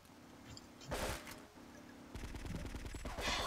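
Rapid bursts of gunfire from a weapon in the video game GTA 3, loud and dense, with clustered automatic shots and a sustained barrage toward the end.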